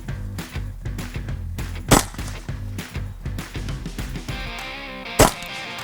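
Two sharp reports from an Evanix Rex P air pistol fired over a steady background, the shots several seconds apart and standing out loud and close.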